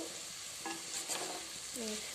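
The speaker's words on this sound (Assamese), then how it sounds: "এইখিনি বেছি দেৰি ভাজি থাকিব নালাগে" Whole spices for tengamora pickle fry in oil and are stirred, a soft, low sizzle with a few faint scrapes and light taps, quiet and brief throughout.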